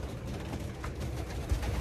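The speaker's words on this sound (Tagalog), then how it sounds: "ito mga ibon" Racing pigeons cooing at close range, low soft murmuring coos repeating over a continuous bed of background noise.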